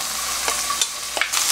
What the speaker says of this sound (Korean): 콩나물을 넣고 한번 볶아주겠습니다.